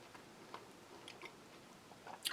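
Crispy-shelled spearmint gum from a Spanish army ration is chewed close up, giving faint, scattered crunchy bites and sticky clicks in a quiet room with no talking.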